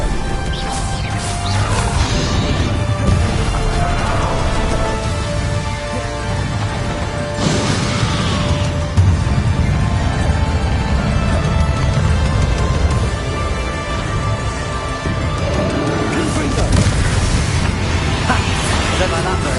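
Hogwarts Legacy final boss fight with Bombarda and Confringo explosion spells, dense blasts and bursts under a constant roar of game music and effects, with someone shouting spell names over it.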